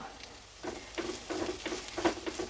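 Chilli powder being stirred as it fries in a pan for an evening snack, a soft sizzle under repeated scraping strokes of a spoon that come every half second or so.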